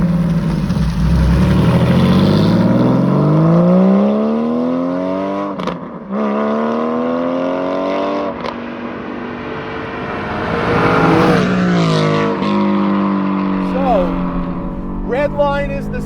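A Porsche 718 Spyder fitted with a 565 hp naturally aspirated 4.5L engine, with an 8,000 rpm redline, driven quickly on damp mountain roads, its engine rising and falling through revs continuously and loudly beneath someone talking.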